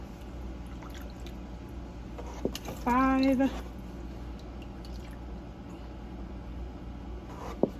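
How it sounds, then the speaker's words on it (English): Water poured into a pot for old-fashioned chicken and rice: one short pour of about half a second with a rising, filling tone. A voice speaks just before it over a low kitchen hum. "about 6 cups of water that we're going to put in here."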